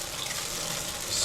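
Hotel shower head in a Sheraton bathroom in New Orleans, spraying water everywhere, a steady hiss of falling water that swells slightly near the end, brief and fairly quiet.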